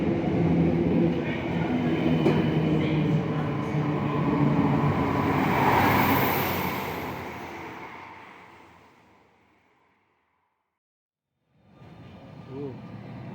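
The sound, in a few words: tram arriving at Mitcham Junction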